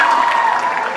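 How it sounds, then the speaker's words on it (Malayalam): A mall crowd at a film promotion event with the Footage movie team, Manju Warrier among them, breaks into applause. The brief, dense clapping holds at a steady level throughout, with a faint ringing tone beneath it. "നല്ല കൈയടി കൊടുത്തേ."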